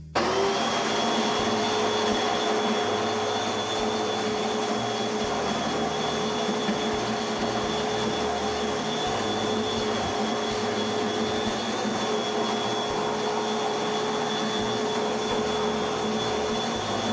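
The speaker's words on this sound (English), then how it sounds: "Why is it taking so long to grind?" Electric coffee grinder grinding beans for a latte, a loud, steady, continuous whirring drone with a constant pitch that runs without pause throughout.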